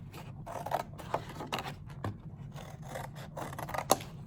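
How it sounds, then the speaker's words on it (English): Scissors snipping through a brown paper bag, a series of quick, crisp close cuts in an irregular rhythm with short pauses between, fairly quiet and alone. "Now I'm going to cut this part off because I don't need it to be quite that tall."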